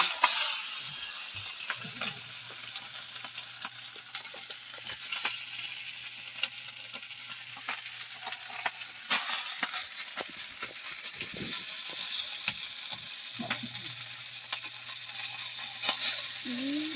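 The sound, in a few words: rice being stir-fried in a pan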